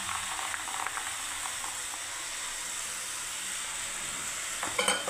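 Vegetables and peas being stirred in a frying pan, with a steady broadband sizzle and hiss throughout and a few soft scraping stirs, a louder clatter near the end; no talking.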